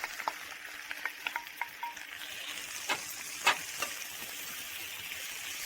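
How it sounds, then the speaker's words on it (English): Onions and garlic fry in oil in a very hot pan, a soft continuous sizzle with scattered light taps and scrapes of a utensil, quiet and close. "since my pan is really hot, I'll go ahead and add the onions right away"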